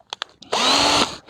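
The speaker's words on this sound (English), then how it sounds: "here is my handheld drill, and here are some wood bits of various different sizes and diameters" A handheld electric drill fitted with a wood bit whirs in a short, high, steady burst of about half a second, preceded by a few small clicks and handling knocks.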